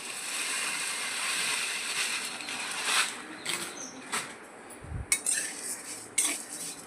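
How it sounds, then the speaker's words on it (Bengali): Vermicelli frying in ghee in a pan, stirred with a utensil: a faint background sizzle broken by several sharp scrapes and clinks of spoon against metal, close and intermittent, with no talking. "এটা আমি লাল করে একটু ভেজে নেব"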